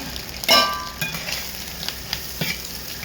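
Oil sizzles steadily in a pan as egg fries for fried rice while a utensil scrapes and stirs, with a burst of loud frying at the start, close up and without talk.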